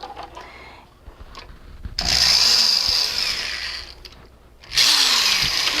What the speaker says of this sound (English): Yes, I did just drill right into my work table.